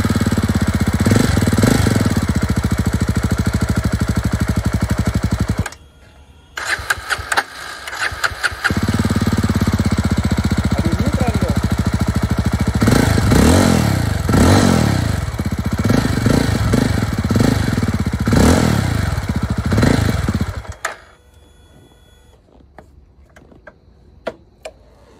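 A Jawa 350 motorcycle engine cranks and fires, running loudly with a steady thumping idle, drops out briefly, then restarts and runs again with revving swells before cutting off near the end.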